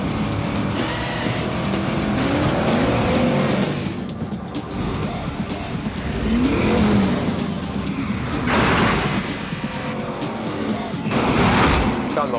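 Film car chase from Gone in 60 Seconds: loud roaring engines, squealing tires and skids with booming impacts, a dense, continuous action mix surging and easing over about twelve seconds.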